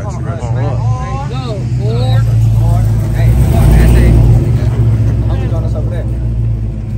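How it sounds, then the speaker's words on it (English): Car traffic rumbles along a Los Angeles street in Harbor City, a steady low engine roar that swells as vehicles pass close by, with people talking over it throughout. "you see the cars coming"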